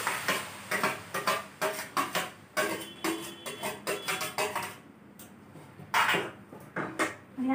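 Grated bottle gourd for dudhi halwa is stirred in a kadai, giving a steady run of close, rhythmic scrapes and clinks of the spoon against the pan, with short pauses between strokes and no talking.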